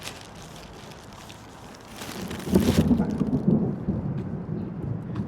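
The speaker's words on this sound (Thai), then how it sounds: "โอ้ฝนมาแล้ว" Heavy rain falls at an outdoor used-car lot in Bang Na, Thailand, with thunder rumbling. The noise is steady and swells louder midway, and a voice may sound faintly underneath.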